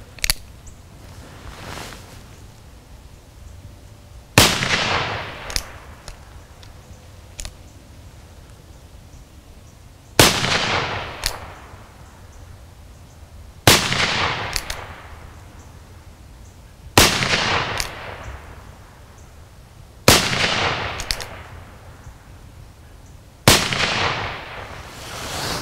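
An Uberti 1851 Navy cap-and-ball revolver with a 5-inch barrel fires six sharp, loud shots spaced several seconds apart, each crack followed by a short decaying echo outdoors, with caps getting hung up in the action.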